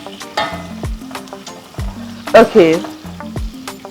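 Aromatics sweat in hot oil for a Somali bariis rice dish, giving a loud continuous sizzle broken by stirring scrapes, with a person speaking briefly over the frying.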